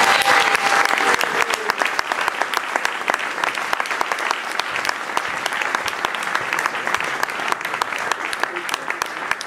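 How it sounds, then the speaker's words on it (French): An audience at a slam poetry show claps steadily, a dense and loud burst of applause that carries on throughout with a voice speaking over it. "Je vous demande de faire un chouchou d'applaudissements pour ma petite"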